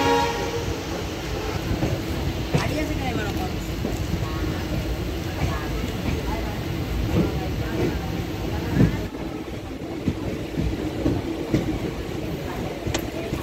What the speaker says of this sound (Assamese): হৈ গ'ল যাবলৈ ট্ৰেইন চলি গ'ল